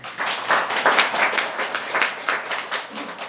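A room full of people at a Buddhist temple dharma talk claps steadily, dense overlapping hand claps at even loudness throughout.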